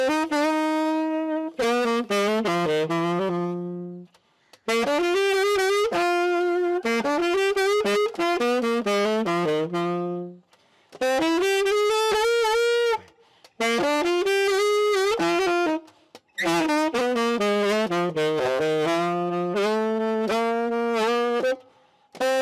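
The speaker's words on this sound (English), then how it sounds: "What you just heard was the 12-bar blues, a characteristic feature of jazz" A 12-bar blues jazz tune played on a sustained melodic instrument: phrases of bending, sliding notes separated by short pauses, loud and close, with no talking.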